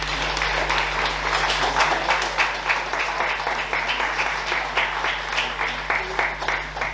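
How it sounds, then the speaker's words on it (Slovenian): Audience applause at a Slovenian children's book award ceremony, steady dense clapping from a full hall that holds at the same level throughout. "En aplavz."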